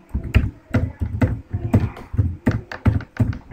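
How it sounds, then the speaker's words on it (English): Rapid keystrokes on a computer keyboard as a password is typed, close and crisp, coming in quick uneven bursts of taps with no speech. "Let me type in my password again."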